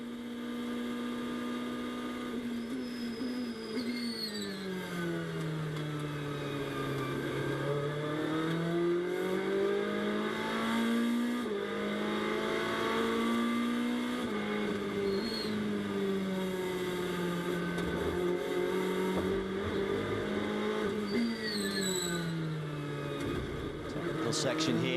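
Onboard the number 61 GT race car lapping Virginia International Raceway in a Blancpain GT World Challenge America race, its engine droning loud and steady as it rises and falls through gears and corners, with commentators talking over it.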